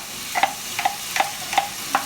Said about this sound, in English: So putting the onion in.